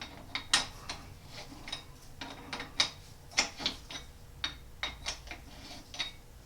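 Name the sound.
Wescott chuck wrench turning geared scroll chuck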